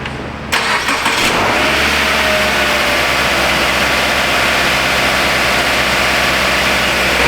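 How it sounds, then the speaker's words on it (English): A cold 2017 Subaru Outback engine catches after a brief crank and settles into a steady, loud fast idle, running continuously up close with no talk. "These Subarus always run on a pretty fast idle when they're cold, and this thing's stone cold, sat inside overnight."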